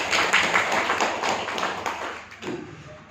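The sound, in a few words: audience clapping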